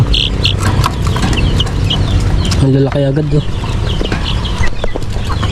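A short cluck from a purebred breeding rooster comes midway, loud and close. Other farm birds call and clatter throughout, and someone talks over them.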